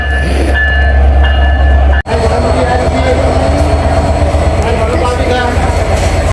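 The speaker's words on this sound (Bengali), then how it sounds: "এখন আমাদের ট্রেন আবারও ছুটে চলেছে একদম সরাসরি খুলনার উদ্দেশ্যে" Passenger train running on the line toward Khulna after a replacement engine was attached, with a loud steady rumble and wheel rhythm throughout, interrupted by one brief break near the two-second mark.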